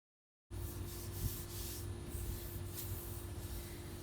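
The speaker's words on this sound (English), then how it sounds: "you just use a nice nylon brush and apply it straight on" A nylon brush spreads polyacrylic top coat over chalk-painted furniture, giving a soft, steady swishing rub with faint stroke accents over a low background hum.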